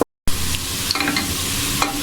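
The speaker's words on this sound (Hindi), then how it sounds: "वैसे तो हमने ऑयल ज़्यादा डाला है, फिर भी एहतियातन आपने इसको हिलाते जाना चम्मच की मदद से" Onions fry in plenty of oil while a spoon stirs them, giving a loud, close, continuous sizzle with scraping stirs after a brief moment of silence.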